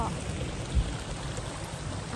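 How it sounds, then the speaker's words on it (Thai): Heavy rain falling beside a forest stream, a dense even hiss filling the air, close and steady with a brief low thump partway through. "ฝนตกแรงมากนะพี่"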